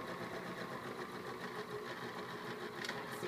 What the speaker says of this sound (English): So I back stitch when I start sewing